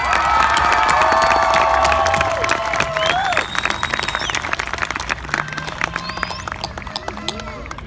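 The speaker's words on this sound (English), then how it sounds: "can we just have one more round of applause for your salutatorian and valedictorian?" A large crowd at a school commencement claps and cheers loudly at first, then the applause thins out gradually while a few voices shout over it.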